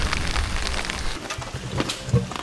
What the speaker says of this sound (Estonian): Uus ilmareportaaž on see, et on juba päris vihmane.